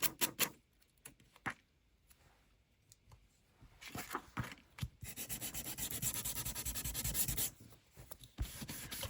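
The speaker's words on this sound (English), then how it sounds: "And just sand off the sides." Sanding the sides of a paper craft envelope: soft, quiet rubbing strokes come in short scratchy bursts, then a longer steady stretch of sanding.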